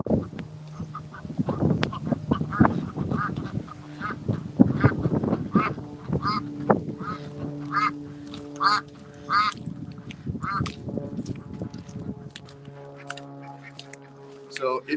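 Ducks on an urban farm quack repeatedly in busy overlapping calls, close and loud, with some honk-like calls mixed in.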